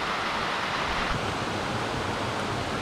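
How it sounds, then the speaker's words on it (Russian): A waterfall beside a river trail in the Khibiny mountains on the Kola Peninsula gives a steady, loud, close rushing roar of falling water, continuous throughout with no voices. "И здесь вот такой вот красивый водопад."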